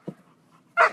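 A pet dog gives two short barks, a brief soft yip near the start and a louder, fuller bark at the end, with no voices over them.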